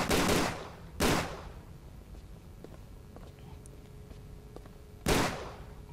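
Enemy gunfire in the video game Tomb Raider: The Angel of Darkness: three sharp, loud gunshot blasts, two in quick succession and another a few seconds later, with faint game noises in between.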